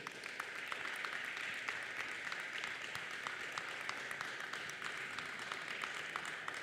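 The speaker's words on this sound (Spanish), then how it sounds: "Denle un fuerte aplauso a la palabra de Dios." A church congregation applauds the word of God during a sermon, a steady, fairly faint patter of many hands clapping at a distance.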